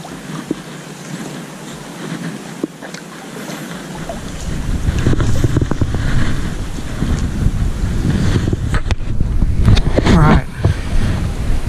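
Steady wind rumbles and buffets across the open air while fishing, growing stronger and gustier partway through, with a faint wash of water underneath.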